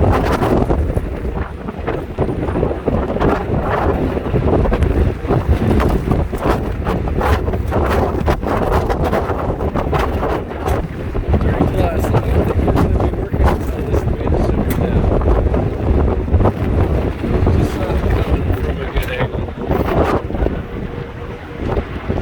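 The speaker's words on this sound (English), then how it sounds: "See the cab's blocking the wind right now." Strong gusting wind from a windstorm on the waterfront roars continuously across the microphone, with heavy buffeting rumble and brief bursts throughout.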